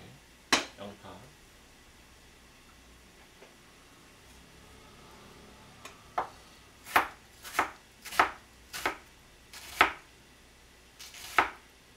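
A knife cuts an onion into thin strips on a cutting board. A few quick knocks come early, then after a pause about eight sharp, evenly spaced chops sound close by in a quiet room.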